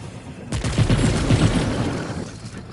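A weapon in the Remnant 2 video game fires and damages enemies in a loud, sustained rattling burst of rapid gunfire lasting a couple of seconds, with faint talk underneath.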